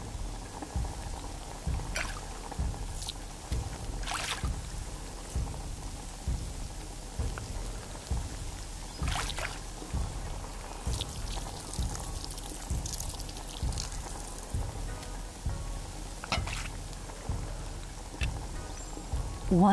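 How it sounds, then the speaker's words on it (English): Water poured into an empty wok during a virtual-reality cooking game, a steady splashing patter like rain that runs throughout with regular soft knocks underneath and a few brighter splashes. "Fill the now empty wok with 2 scoops of water."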